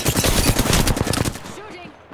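Rapid automatic gunfire rattles in Apex Legends from the L-STAR weapon, a loud, dense burst of shots lasting over a second before trailing off into echoing tails.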